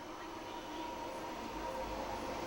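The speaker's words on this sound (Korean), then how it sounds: "시내와 디즈니랜드만 오가는 지하철 노선도 별도로 설치했습니다." A Hong Kong metro train on the dedicated Disneyland line rumbles along steadily, with a continuous low roar and a faint hum of wheels on track.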